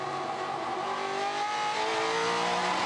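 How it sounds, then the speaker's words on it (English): A Mustang touring race car on track at Hidden Valley in a 2015 Touring Car Masters race, heard onboard: a loud, continuous engine roar that shifts pitch as the revs change, with no talk. "Love the sound of this car when it downshifts."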